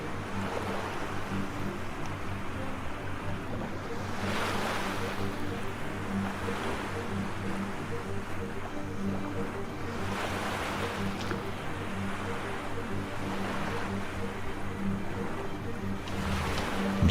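A sailing ship crosses open ocean in the Quinfall video game, with a steady wash of waves and wind that swells in soft surges and carries on without a break and without any talking.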